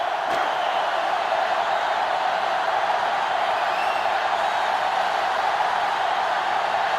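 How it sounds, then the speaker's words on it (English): A stadium crowd roars and jeers in the NCAA Football 2005 video game. The broad, unbroken wash of noise stays loud and steady for seven seconds, with no voices standing out. "The crowd is really letting him hear it."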